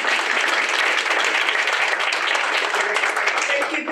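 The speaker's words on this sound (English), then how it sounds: "round of applause" Dense, sustained applause fills the hall as an audience claps for the panelists of a South African social rights litigation discussion, loud and continuous from start to finish.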